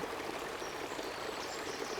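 Water flows steadily around a sculled rowing boat, a continuous soft rushing and trickling wash heard alone as an audiobook sound effect.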